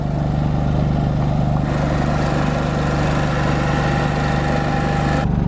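Portable generator running close by with a steady, loud engine drone and rhythmic low thrum, unchanging throughout with no voices.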